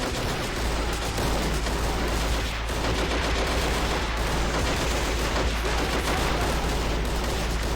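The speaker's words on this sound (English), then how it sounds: "There's like 4 guys shooting at him." Sustained volleys of rifle and machine-gun fire from several soldiers in a Men of War battle, a dense, loud, continuous crackle of shots with no pause throughout.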